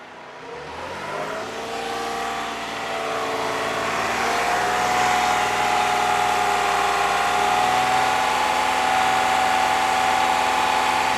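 Close by, a 2015 Toyota Sienna 3.5-litre engine climbs from idle and is held at a raised speed of about 2500 rpm, its loud, steady drone sustained without a break.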